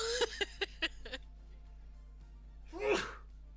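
One person sneezes once, a short sharp burst close to the microphone, following a few quick voiced breaths or syllables in a quiet indoor room with a faint steady hum.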